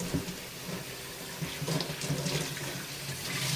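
Water runs from a tap into a cola bottle, a soft, steady trickle and splash heard up close and fairly quiet, with no talking.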